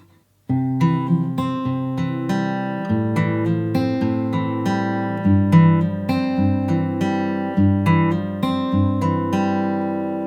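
A guitar plays a steady picked melody line over held bass notes, each note plucked clearly in an even rhythm.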